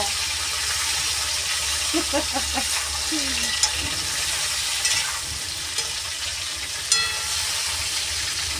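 Cluster beans frying in a pan in a home kitchen, with a steady loud sizzle throughout, occasional stirring clicks and scrapes, and a voice briefly audible in the background.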